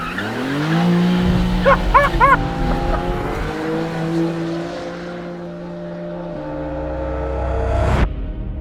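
A BMW M3 CS Touring slides with its back end stepping out, engine note rising and falling under loud screeching tires, a brief dog-like bark near the start, and a sharp bump near the end.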